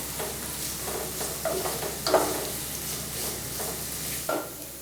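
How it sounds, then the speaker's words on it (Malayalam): Sliced onions frying in a pan for a garlic chicken roast, a soft steady sizzle broken by several scraping stirs of a spoon, close and clear with no talking. "സവാള ചേർത്ത് കൊടുത്തതിന് ശേഷം നല്ല രീതിയിൽ തന്നെ നമുക്കിതെല്ലാം ഒന്ന് വഴറ്റി കൊടുക്കാം"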